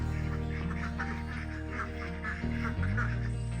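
Ducks at a backyard duck pond quacking repeatedly in overlapping calls, fairly close and loud over a constant low hum.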